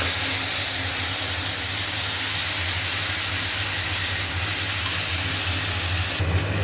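Tomato paste poured into hot oil tempered with nigella seeds after fish frying, producing a loud, steady, dense sizzling hiss with a low hum beneath it that runs throughout.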